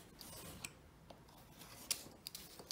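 Scissors trimming the top edges of paper pages for a handmade handbag junk journal: faint, close snips and small crisp clicks scattered over a soft background hiss, with no talk.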